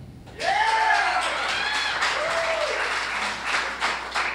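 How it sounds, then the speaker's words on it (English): Audience at a contest applauds to vote for a contestant; a burst of clapping starts abruptly and holds steady, mixed with whoops and shouts from the crowd. "All right, so we're just going to do this by applause."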